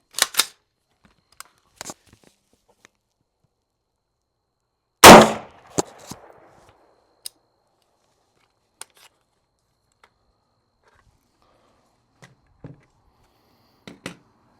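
A handgun being test-fired with a light primer strike gives one loud sharp report mid-clip, with a few small clicks and clacks of handling scattered before and after.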